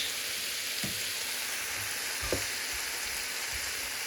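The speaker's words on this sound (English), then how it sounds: "We have basically everything contacting the heat of the pan. Let it simmer." Vegan chick'n pieces and broccoli simmering in a hot pan give a steady, moderate sizzle, broken by a couple of soft scrapes or stirs.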